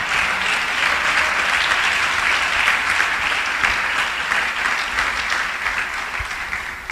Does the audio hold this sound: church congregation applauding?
yes